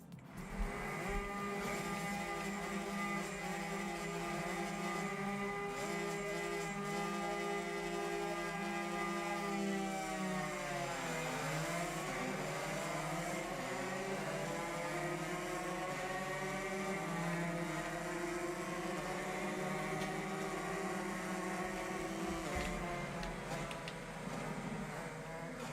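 Racing motorcycle engines in the video game Ride 5, a dense layered whine that rises and falls together as bikes shift and accelerate, loud and continuous throughout with no talk.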